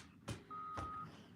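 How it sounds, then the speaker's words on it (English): A big rig truck parked for road works sounds a single steady reversing beep, faint and a little distant, with brief knocks from the work around it in a quiet setting. "Sorry about the beeping that's going on."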